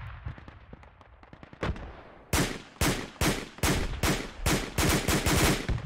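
Rapid bursts of gunfire in the military shooter game Project Reality, set on a moon map: a string of loud, sharp shots in irregular succession, near and unaccompanied by talk after a brief quieter opening.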